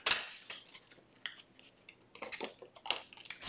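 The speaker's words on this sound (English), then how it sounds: "I'm going to shuffle one more time." Tarot cards being shuffled by hand, giving quiet crisp riffles and slapping flicks in irregular bursts, close up with no talk over them.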